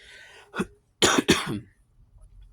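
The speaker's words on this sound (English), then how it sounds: "I'm coughing to death." A short cough, then a pause, then two rough, throaty coughs close to the microphone, followed by quiet.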